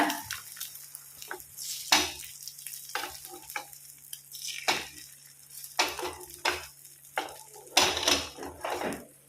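Beaten egg mixture fries on a hot tawa, a steady close sizzle broken by repeated scraping and stirring strokes of a metal spatula against the pan.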